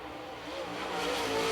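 A super late model race car runs down the front straightaway at Lancaster Motor Speedway, its engine note rising and swelling louder as it approaches, with no voices over the roar.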